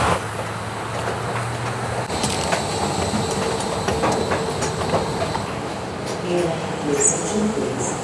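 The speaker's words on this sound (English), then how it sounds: "Get back on the train." A Washington, D.C. subway train rattles along with rhythmic clickety-clack and occasional high wheel squeals, a continuous rumbling ride with no clear speech.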